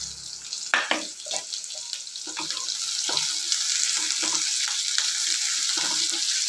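Onions sauté in hot oil for a moong dal soup, giving a bright, steady sizzling hiss with scattered sharp crackles and spits, close and fairly loud, with no talking.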